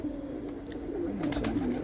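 Pigeons in a fancier's flock coo softly nearby, a low murmuring call repeating across a couple of seconds with no talk.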